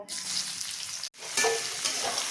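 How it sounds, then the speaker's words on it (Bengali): Pieces of young jackfruit, already boiled, fry in the same oil used for potatoes, giving a loud, continuous close sizzle with stirring and a brief break partway through. "একই তেলে আমি ইঁচড়গুলো ভেজে নেব"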